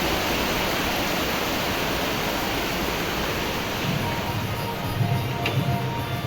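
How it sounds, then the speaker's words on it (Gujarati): Heavy monsoon rain pours down in a steady, dense roar around Ashadhi Bij, getting a little louder and fuller toward the end, with no voices over it. "જબર વધી ગયો વરસાદ."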